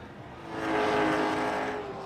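Late model stock cars running on the track at Southern National, a loud sustained engine roar swelling as the cars pass close, steady with no talk.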